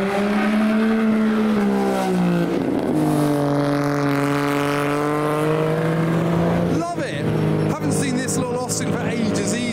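A loud classic Austin A35 drives past, its engine note sweeping down and rising again as it goes by, with someone talking over it.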